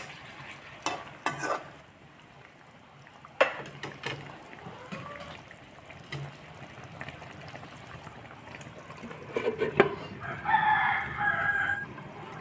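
Chicken curry frying on high flame, with soft sizzling and intermittent scraping and stirring sounds in a pan, and a rooster crowing in the background near the end.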